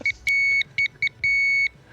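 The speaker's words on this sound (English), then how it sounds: "That's Johnny Holes communicating through Morse code with us" A series of short and long electronic beeps in a Morse-code-like pattern, crisp and close, with no voices over them.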